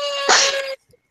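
A single close, loud sneeze bursts out abruptly and cuts off in under a second, followed by a faint brief sound.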